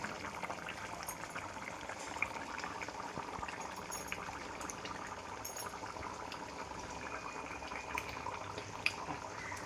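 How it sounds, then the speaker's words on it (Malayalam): Soft, steady bubbling and simmering of fish curry in a pot, continuous and fairly quiet with a faint hiss. "നമ്മുടെ വറ്റിയൊക്കെ അത് അടിപൊളിയായിട്ട് തിളച്ചുകൊണ്ടിരിക്കുകയാണ് കേട്ടോ"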